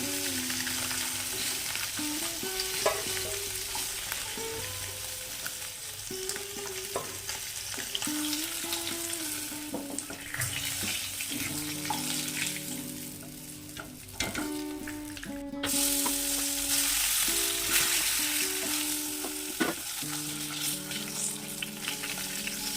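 Koi fish frying in hot oil in a pan, a loud, continuous close sizzle and crackle with occasional pops, lasting throughout without any talk.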